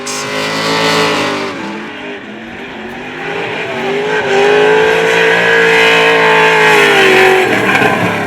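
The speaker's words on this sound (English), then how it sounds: "Lauder chasing hard in the Blink Company 2JZ powered 180SX" Drift cars race at Hampton Downs in Waikato, including a 2JZ-powered Nissan 180SX chasing, with loud engines revving and sustained high-pitched wailing as they slide past, close and continuous with no talk.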